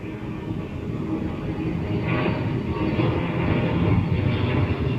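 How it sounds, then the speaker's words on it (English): Airplane flying overhead, a broad low rumbling roar that swells slightly as it passes, steady and moderately loud with no talk. "that's an airplane."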